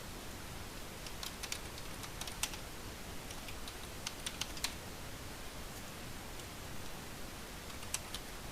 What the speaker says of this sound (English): So we'll save the form, and we'll type in another name.